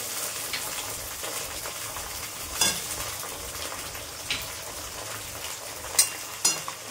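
Chopped tomatoes and spices tossed into browned onions frying for chicken masala, a steady moderate sizzle with occasional clanks and stirring scrapes against the pan, no voices.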